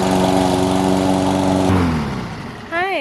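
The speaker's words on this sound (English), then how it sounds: "Ethan's mowing the lawn" A lawn mower running nearby, a loud steady engine drone that eases down and fades toward the end, where a voice briefly speaks.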